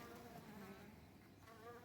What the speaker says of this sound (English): there's bees up here now, and they're all around the edges